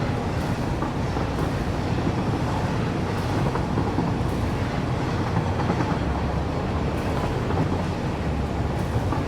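Train rolling along rails in Satisfactory, a steady continuous rumble with faint rhythmic clacking, loud and sustained, without talk.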